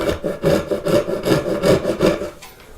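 A hand saw cuts wood for a half-blind dovetail joint with quick, even back-and-forth strokes, about eight close, loud rasping passes before the sawing stops.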